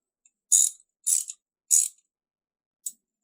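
Ratchet wrench clicking while tightening screws on a Pit Bull helmet and gear holder, three crisp ratcheting bursts in quick succession and a short final click, close and isolated against silence.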